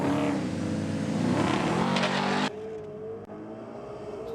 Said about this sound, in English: Just hear the tyres grabbing for traction on the Sydney Dragway start line for Agro LH.